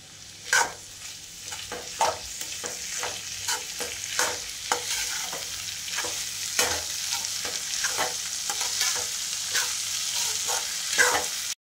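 Red pigeon peas (lentils) with coriander are sautéed in a hot pan over a high flame, giving a steady sizzle broken by repeated sharp scrapes of the spoon. The scraping and frying are close and there is no talk.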